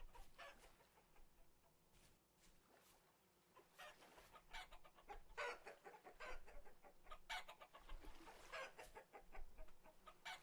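Hens in the video game Vintage Story cluck and squawk softly at a distance. The calls come in bursts over a quiet ambient background.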